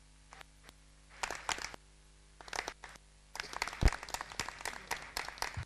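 Scattered audience applause at an award ceremony comes in short irregular bursts of clapping from a small group, separated by quiet gaps and growing denser toward the end.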